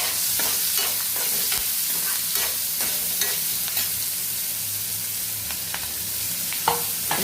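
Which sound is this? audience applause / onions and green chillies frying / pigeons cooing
onions and green chillies frying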